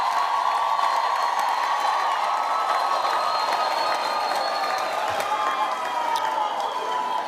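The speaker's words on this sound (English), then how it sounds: "let's give our graduates a big round of applause" Audience at a university graduation ceremony applauding the graduates, a steady, dense wash of clapping from a large crowd that holds evenly throughout, with a few faint scattered cheers.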